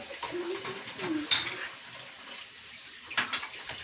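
Dishes are washed under a running kitchen tap, with a soft, steady trickle of water and a few faint clinks of crockery, quiet and fairly close.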